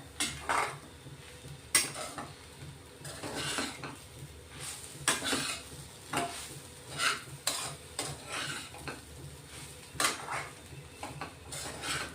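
Crumbled leftover chapati tossed with spices in a pan, a steady run of spatula scrapes and clinks against metal over a soft sizzle, close and fairly quiet with no talking.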